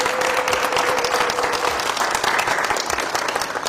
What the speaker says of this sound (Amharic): አጨብጭቡልኝ።